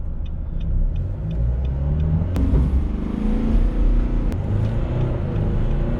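A Nissan Navara NP300 fitted with an iDrive throttle controller accelerates from a standstill, with a deep engine rumble rising steadily as the vehicle pulls away, heard from inside the cab with no talking.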